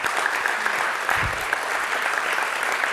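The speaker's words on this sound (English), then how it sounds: "Can we have a round of applause for Baldy?" Conference keynote audience gives Baldy a round of applause, a steady mid-level wash of many hands clapping with a brief low thump partway through and no talking over it.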